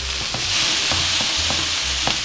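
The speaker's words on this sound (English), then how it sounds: "And mix everything around." Thyme, garlic and shallot are stirred around in a hot pan, giving a steady sizzle with repeated scraping strokes about every half second, close and fairly loud, with no talking.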